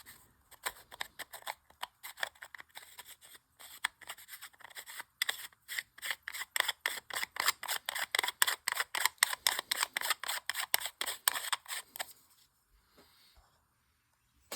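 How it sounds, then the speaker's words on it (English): The cap of a Daiwa GC120 fishing reel is screwed back on, giving a close, rapid run of evenly spaced ratcheting clicks that lasts several seconds before stopping. "Put the cap. And let's screw this back on."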